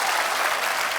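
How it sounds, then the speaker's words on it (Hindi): A studio audience on an Indian comedy show gives loud, steady applause, a dense wash of many hands clapping continuously for the whole second with no voice over it. "my brother Kapil Sharma के लिए जोरदार ताली।"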